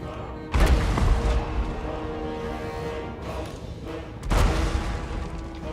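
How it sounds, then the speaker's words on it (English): A hell cannon fires in a Total War: Warhammer 2 battle against dwarfs, with two deep, heavy booms several seconds apart over a constant low rumble of battlefield noise. "We're hammering this little centre here with our hell cannon at the moment."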